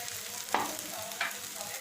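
Beef sizzles in a pan over onions that have been fried until soft, a steady background hiss broken by two short scraping stirs, heard close and without any voices.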